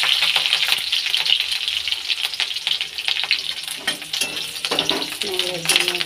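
Chopped onion frying in a pan as curry leaves are added, a bright crackling sizzle with sharp spits and stirring clatter, heard under someone talking.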